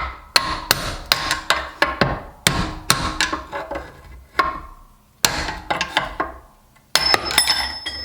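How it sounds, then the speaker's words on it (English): A screwdriver hammered against the bearing cups on a bicycle frame, about a dozen sharp metallic taps in irregular bursts, each ringing out briefly, close and loud. "put that down on the edge there and give it a couple of taps either side"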